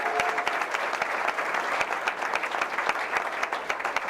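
Audience applause at a school board of education meeting, a steady, full round of many people clapping throughout with no voices.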